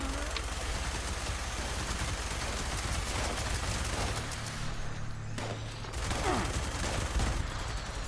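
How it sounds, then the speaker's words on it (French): Grenade launcher fire and explosions in the video game Fallout 76 make a dense, continuous barrage of booming blasts and crackling shots that fill the whole stretch at a loud level. "y en a un qui nous tire dessus au lance-grenade"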